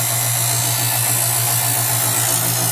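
Steady electric motor hum and grinding whir from a Chef'sChoice 120 Diamond Hone electric knife sharpener as a knife blade is drawn through one slot, continuous and close with no talk.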